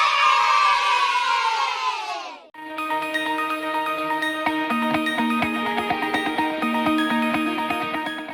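A crowd cheers and applauds at the opening of an online news bulletin show. A loud, dense burst lasts about two and a half seconds, then cuts to bright music.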